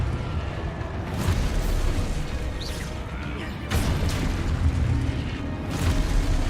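Explosion spells from the Hogwarts Legacy video game burst in quick succession, each a loud, broad boom with crackling debris over a steady rumbling combat background.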